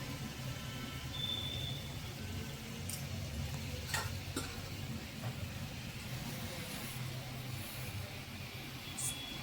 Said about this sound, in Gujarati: હવે કચોરીની ગોળીને તળી લેશું.